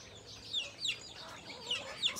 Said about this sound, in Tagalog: Ayan, mga manok ko, mga native.